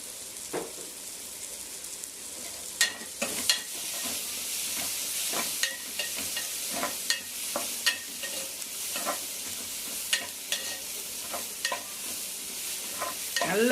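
Masala with potato sautéing in a pan, a steady sizzle and fry hiss throughout with repeated scraping stirs of a spoon at an irregular rhythm, close and fairly soft, no talk.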